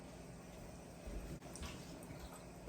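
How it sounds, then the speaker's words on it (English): Water pours in a steady, soft stream into a pan of pasta sauce for stuffed shells, a continuous low splashing with a brief pause midway and no voices. "going to water this down a little bit in there"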